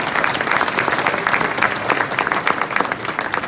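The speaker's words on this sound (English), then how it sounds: "A big round of applause, ladies and gentlemen." An audience at a Zimbabwe finance event gives a big round of applause for the Reserve Bank governor. Steady, dense clapping fills the room for several seconds without letting up.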